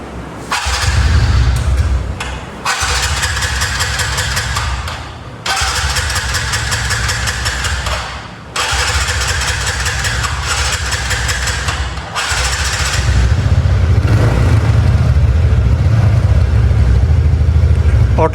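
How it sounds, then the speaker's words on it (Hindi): A 2023 TVS Ntorq 125cc scooter engine, seat removed, with a carburetor problem, cranks and starts several times in loud bursts, then settles into a steady close idle with raised revs. "बिना सीट को लगाए हुए एक बार स्टार्ट करके चेक कर लेते हैं कि प्रॉपर तरीके से स्टार्ट हो रही है फिर नहीं"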